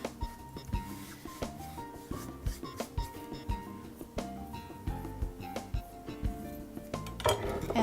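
Chopped salad tossed with dressing in a bowl, a close run of rhythmic clinks and scrapes of utensils against the dish, repeated steadily without pause.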